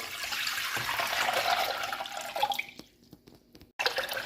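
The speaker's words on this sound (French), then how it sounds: "Je vais commencer par ajouter 2 litres d'eau." Two litres of water pour steadily into a saucepan being readied for a ginger and mint detox drink, a continuous close splashing stream that thins to a trickle and a few drips before stopping.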